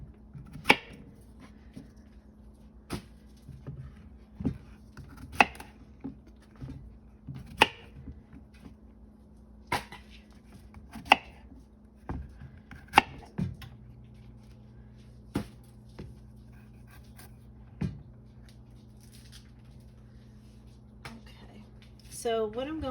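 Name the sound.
knife slicing zucchini into thin slices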